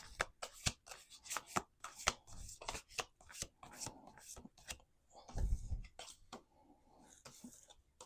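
Close, crisp riffling and slapping of tarot cards being shuffled in quick bursts, with short pauses and a soft thump between rounds.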